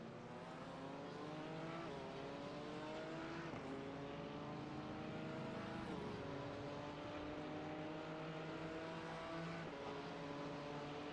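Race cars lap the Spa-Francorchamps circuit in the iRacing simulator, a Mercedes among them, their engines whining steadily with repeated rising gear pulls and shift drops, fairly faint and continuous.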